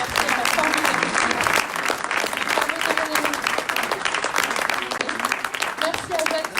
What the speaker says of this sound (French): Et moi, je vous applaudis